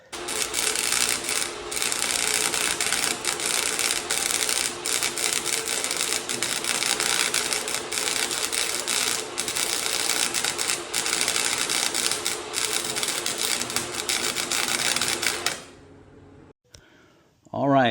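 Arc welding on a tractor snow plow, a continuous loud crackling buzz running steadily for about fifteen seconds before cutting off abruptly, followed by a brief quiet moment.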